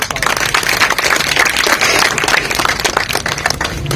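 Loud, dense applause from an audience at a women farmers' producer company meeting, many hands clapping together in a continuous roar for the whole stretch, with no speech over it.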